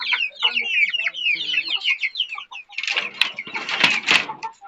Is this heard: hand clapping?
no